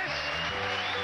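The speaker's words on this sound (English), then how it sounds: "let's have a round of applause for the truly delightful Dennis DeJure" Steady, dense applause from a game show's studio audience, continuous and even throughout, with a faint voice or tone blended underneath.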